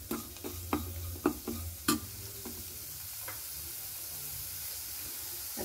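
Spices fry on low heat in a pan for a samosa filling, with a steady sizzle throughout and several sharp spoon taps and stirring knocks in the first two seconds.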